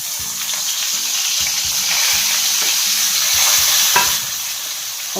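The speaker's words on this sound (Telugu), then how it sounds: "అయితే గుడ్లు వేగిపోయాయి ఉప్పు చేపలు వేసుకుందాం" Eggs fry in a pan as salted dried fish is added, producing a constant close sizzle broken by rhythmic scraping and stirring strokes of a utensil against the pan.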